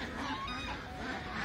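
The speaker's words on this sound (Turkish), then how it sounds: "Oo, bir ördek kavgası orada" Muscovy ducks scuffling in a fight, with loud, harsh honking and hissing calls that run steadily and close for the whole stretch.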